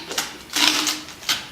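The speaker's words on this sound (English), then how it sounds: "we're going to go ahead and tape them together" Adhesive tape torn off a roll in three short bursts, the middle pull longest, to join two cups into a column; close and fairly loud with no talk.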